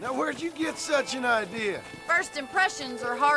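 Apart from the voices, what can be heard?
None of the usual background noises is heard.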